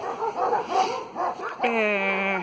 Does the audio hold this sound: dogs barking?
yes